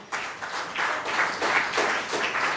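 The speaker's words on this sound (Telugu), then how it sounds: "నమ్మితే ఒకసారి గట్టిగా క్లాప్స్ కొట్టండి" Church congregation clapping at a Sunday worship service, a sustained burst of crowd applause filling the room in steady rippling waves for a couple of seconds, fairly loud, with no voices.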